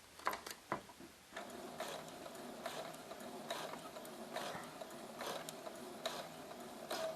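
A sewing machine runs slowly, stitching piping close against its cord at a 2.5 stitch length, giving a faint, steady mechanical whirr with regular ticking needle strokes after a few scattered clicks at the start.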